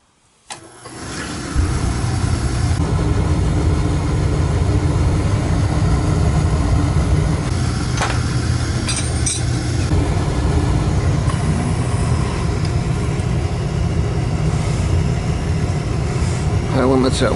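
A Beckett oil burner with a Webster oil pump lights off with a short click, then settles into a loud, steady roar. The roar runs unbroken to the end, and faint clicks sound here and there.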